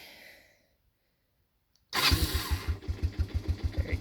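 A 1987 Honda TRX125 ATV cold-starts: after a short stretch of quiet, the engine catches abruptly and settles into a close, loud, rhythmic idle with evenly spaced thumping pulses.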